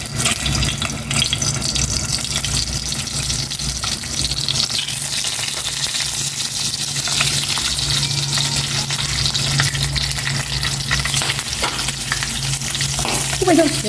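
Pork pieces for Pangasinan-style sisig hit hot cooking oil in a pan, producing a loud continuous sizzle and splatter that holds steady for the whole stretch, close up with no voices.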